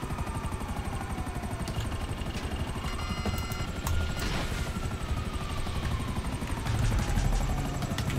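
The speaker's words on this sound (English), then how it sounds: "Let's lose this helicopter coming behind me." A police helicopter in the video game GTA 5 chases the player, its rotor thumping in a steady rapid beat with engine whine throughout, with distant gunfire-like pops mixed in.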